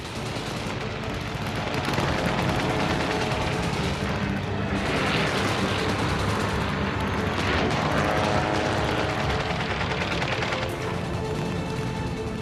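Waves of RAF fighter squadrons in a World War II air battle against German aircraft, with loud engine drone and bursts of gunfire blending into a dense, constant roar.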